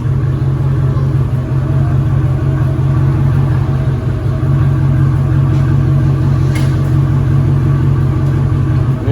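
A Mercedes CLK500 V8 fitted with DynoMax Race Bullet mufflers rumbles loud and close, a deep steady exhaust drone that holds throughout with only slight swells.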